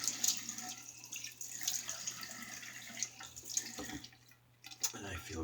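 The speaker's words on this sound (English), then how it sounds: "Alright, quick rinse." A razor gets a quick rinse under a running tap, water splashing steadily close by with small clinks and splatters, then briefly easing off before running again.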